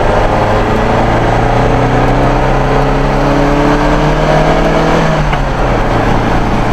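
A 1973 Alfa Romeo Giulia Super engine pulls through the gears, its loud close drone climbing in pitch several times and dropping with each shift, heard from inside the car with no talking.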